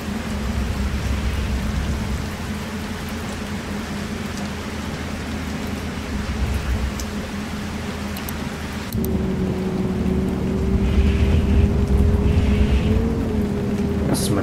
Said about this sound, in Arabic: طبعا طلعوا المطر